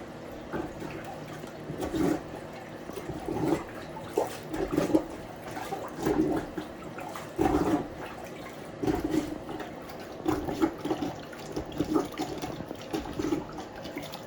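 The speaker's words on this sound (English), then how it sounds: "Now we're going to plunger the rest of this down" A plunger works a drained toilet bowl, making repeated wet gurgling thumps and suction pulses at a steady, close rhythm for the whole stretch, with no talking.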